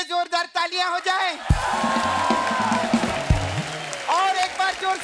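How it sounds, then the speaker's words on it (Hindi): A studio audience at a comedy talk show breaks into a burst of clapping and cheers midway, framed by lively talking before and after. "हमारे गेस्ट के लिए जोरदार तालियां हो जाए"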